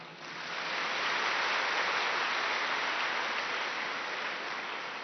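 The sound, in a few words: audience clapping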